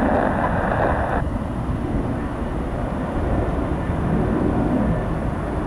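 Heavy jet airliner taking off from runway 27 at Miami International, a loud, sustained engine roar with broadband rush and a rising whine, continuous for the whole span.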